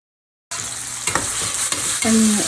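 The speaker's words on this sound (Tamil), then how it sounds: "இதில் வந்து பூரிக்கிழங்கு வந்து தாளிக்க போகிறேன்" Tempering for poori potato masala hitting hot oil in a pan, a loud sudden sizzle that starts abruptly and keeps frying steadily, with a few stirring clanks and a brief tonal scrape near the end.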